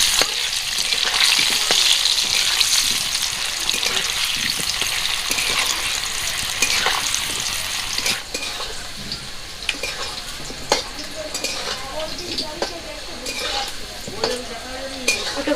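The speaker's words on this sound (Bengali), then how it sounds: "আলুগুলো এবারে ভাজতে দিয়ে দেবো। হাফ চামচ মতো হলুদ দিয়ে দেবো।" Potatoes frying in hot oil with turmeric, giving a steady, loud sizzle with intermittent scraping and stirring clicks against the pan; the sizzle eases slightly partway through.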